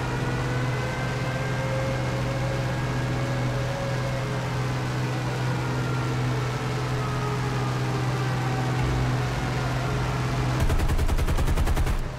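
An aircraft's machine guns fire a long continuous burst in War Thunder, loud rapid chatter over a steady engine drone, ending in a sharp rattling stretch.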